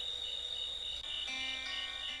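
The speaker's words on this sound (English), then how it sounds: "This is like the sound of like cicadas and crickets" Cicadas and crickets trill in a song, a steady high insect drone that runs continuously and dominates the mix, with no voices over it.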